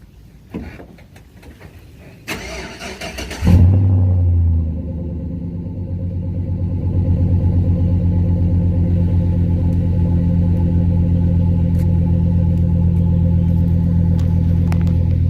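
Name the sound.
cold start of 2006 Chevrolet Impala SS engine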